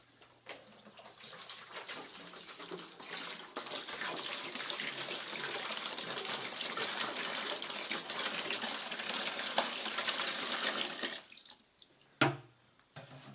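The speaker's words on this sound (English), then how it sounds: "we're going to fill up our big bucket of water" Tap water gushes steadily into a bucket for about ten seconds, a loud continuous rushing pour that stops abruptly, followed by a brief clunk.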